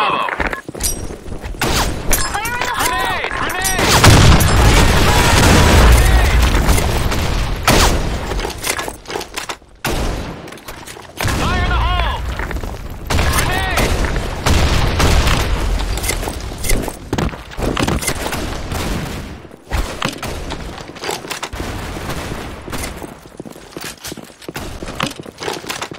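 Rapid bursts of gunfire in the online shooter Blackshot come in clustered volleys with short gaps between them, loud and close, mixed with game sound effects and occasional voices.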